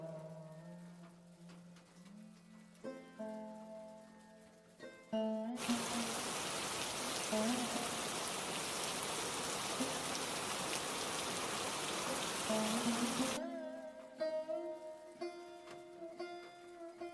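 Rain falls during the rainy season as a steady, dense hiss of drops on surfaces, lasting about eight seconds, with music playing before and after it.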